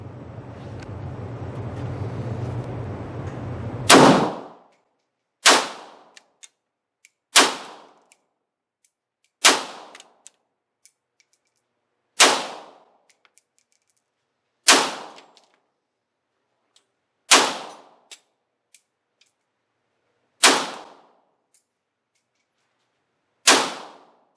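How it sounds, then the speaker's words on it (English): A FIME VEPR x39 rifle fitted with an ALG Defense AKT trigger fires about nine sharp, loud single shots at a steady pace outdoors at a 25-yard range, each crack ringing off into silence after an opening stretch of wind noise. "we got a number of rounds through this ALG Defense AKT Trigger."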